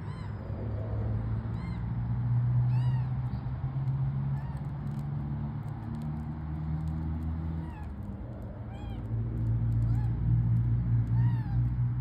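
Australian magpies call repeatedly in a suburban backyard, a series of warbling, fluting notes scattered over a steady low background rumble.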